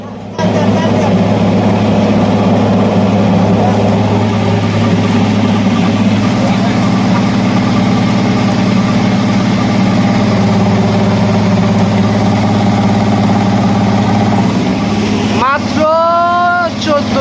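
An old ship motor drives a rice mill at full load, a loud continuous low hum and drone filling the whole stretch, with a brief higher whine near the end.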